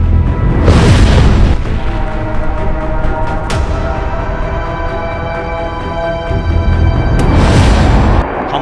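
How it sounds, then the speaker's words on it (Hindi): Rocket fire and explosions from airstrikes in Gaza: two heavy booming blasts roar out near the start and end, over a dense, continuous low rumble, loud and distant-sounding, with no voices. "back to back rockets fire किए जा रहे हैं"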